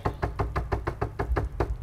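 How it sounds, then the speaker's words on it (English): Knocking on a door in the video game The Quarry, eight evenly spaced knocks in a steady rhythm, moderately loud and close with no talk over them. "She's knocking on the fucking door."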